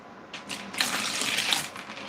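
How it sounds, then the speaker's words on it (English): Water splashes and gushes for about two seconds, filling a pet snake's water bowl, with a brief tap-like trickle before a steady pour. "Fill their water bowl."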